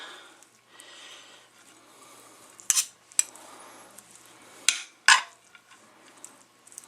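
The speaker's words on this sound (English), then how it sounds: "Pull the fork out and mix all this." A fork mixing ramen noodles with a small amount of sauce in a bowl, giving soft wet stirring with a few sharp metal clinks against the dish, close and fairly quiet.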